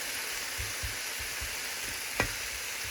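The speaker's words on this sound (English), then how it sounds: "We can go ahead and turn off the heat. And we're gonna let it simmer" Vegan mandarin chick'n and broccoli simmer in a pan after the heat is switched off, giving a soft continuous sizzle broken by a few low thumps of stirring and one brief sharp clink.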